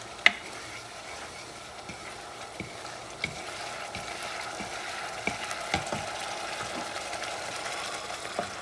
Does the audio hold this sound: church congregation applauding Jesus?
no